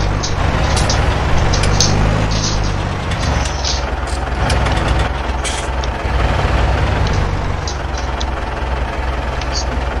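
A tractor spreads fertilizer across a field in Farming Simulator 19, its engine holding a steady, loud, low drone that shifts slightly in pitch partway through.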